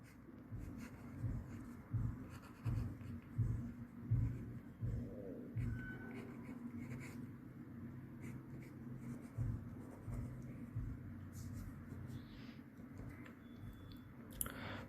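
Pen or pencil writing by hand on paper while working a Warshall algorithm example in discrete mathematics, heard as close, rhythmic scratching strokes in short bursts with pauses, quiet and alone.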